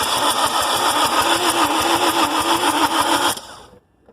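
A 2005-12 Lexus IS220D diesel engine cranks steadily with a rapid, even starter rhythm for over three seconds, loud and close, then cuts off abruptly into near silence without catching.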